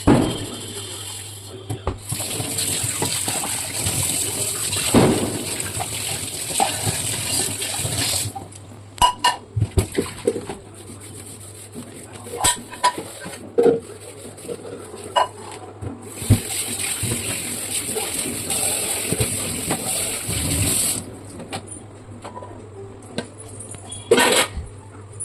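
A steel pot with spoiled-milk residue is scrubbed with a steel scrubber under water: steady gritty scraping and running water, with occasional metallic clanks, close up, and someone speaking now and then.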